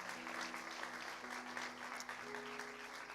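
A church congregation applauds after a sermon, a steady wash of hand claps filling the room at a fairly low level, with a faint sustained musical tone underneath.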